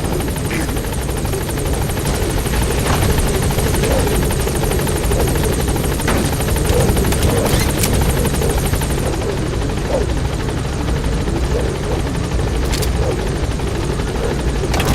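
The Pequod support helicopter in Metal Gear Solid V: The Phantom Pain hovers near at a landing zone, a loud steady rotor roar and whine that fills the whole stretch.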